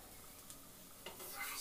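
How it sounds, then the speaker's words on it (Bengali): Flat beans and potatoes fry softly in a pan, with a couple of faint stirring scrapes over a low sizzle. "শিম দিয়ে আলু দিয়ে ভাজা"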